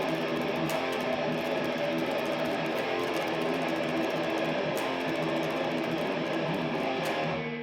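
Distorted electric guitar plays an interlude riff, a dense, sustained wall of overdriven tone running continuously at steady loudness with no talking.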